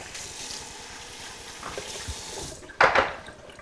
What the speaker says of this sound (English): I'm going to get you a little bit of cold water in a bowl for the shaping of these.